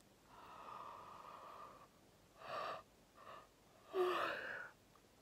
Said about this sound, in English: I don't think I've ever really yawned so much